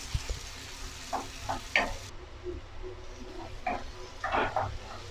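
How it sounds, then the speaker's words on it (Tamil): Chopped tomatoes frying in a pan for a soya chunk gravy: a soft, steady sizzle with a few louder crackles and stirring scrapes, close by and fairly quiet, no voices. "அதையும் இதில் ஆட் பண்ணிடலாம். தக்காளி நல்லா குழைய வேகட்டும்."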